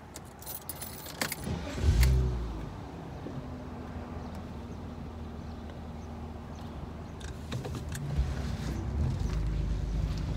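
A car driving along a road in America, heard from inside with a steady low engine hum and road rumble, a jingle of keys near the start, and wind noise swelling toward the end.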